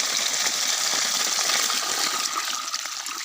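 Water from a 0.5 HP water pump gushes steadily in a loud, continuous broadband rush that holds constant throughout, with no talking.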